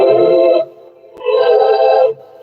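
A whooshy synth tone from the Dream Pop plugin sounds in two sustained swells, each about a second long with a short quiet gap between, bright and airy, with no talking.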